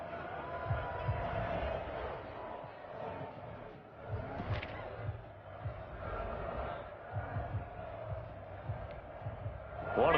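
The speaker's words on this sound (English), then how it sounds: "the crowd getting into it as we come up on a big 3rd down" Stadium crowd noise from Madden NFL 21 on PS4 during a Packers vs Bills Super Bowl game, a low swelling roar that rises and falls as a big third down approaches, fairly quiet and continuous.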